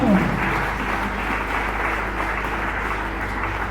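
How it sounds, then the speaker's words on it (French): Church congregation applauding for the Lord, a loud, dense, sustained wash of clapping from many hands filling the hall, steady throughout. "Est-ce que tu peux acclamer pour le Seigneur?"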